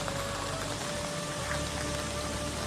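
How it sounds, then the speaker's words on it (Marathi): Steady rain pours down around a village home in Shringarpur, Sangameshwar, in the Konkan region, making a continuous close hiss of drops with no breaks or voices. "पाऊस चालू झाला आहे"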